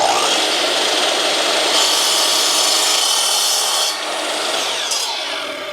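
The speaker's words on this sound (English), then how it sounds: "I think can use my just normal 60-tooth blade in my miter saw" Miter saw fitted with a 60-tooth carbide blade cutting through aluminum deck railing, a loud continuous high-pitched grinding whine that stays strong throughout, easing slightly in the last couple of seconds as the cut finishes.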